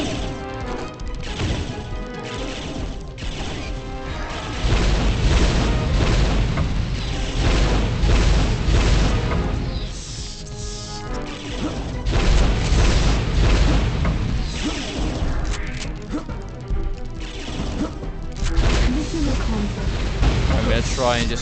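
Enemies shooting in the Turok 2 remaster, loud repeated blasts, crashes and impacts in a long chaotic barrage, with a player talking over the action at times.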